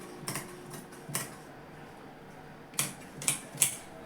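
Scissors snip through blouse fabric in a series of crisp, close cuts, two quick pairs, a single snip, then three sharp cuts in a row, with quiet pauses between and no talk.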